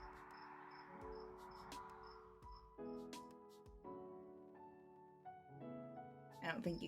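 A cricket right outside a window chirps in short, evenly spaced pulses, about one every half second, faint and high against louder steady tonal sounds and a voice indoors.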